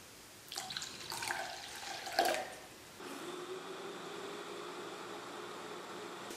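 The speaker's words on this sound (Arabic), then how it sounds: "كنضيف الحليب، كنضيف شويه ديال الماء، غادي نضيف غير نص ديال الكميه." Milk and a little water poured into a blended date and almond drink, a short burst of close splashing and trickling liquid that gives way to a quieter, steady watery hiss.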